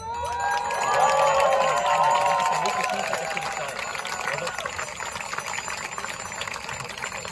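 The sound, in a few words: crowd applauding and cheering at an outdoor rally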